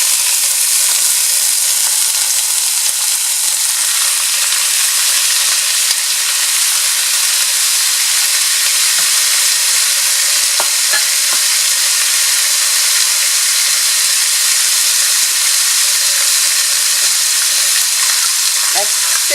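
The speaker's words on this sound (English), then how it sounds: "I'll go ahead and add the pork." Pork hitting a hot pan with golden-brown garlic, giving a steady, loud, close sizzle of frying fat with occasional faint stirring clicks, continuous throughout and with no talking.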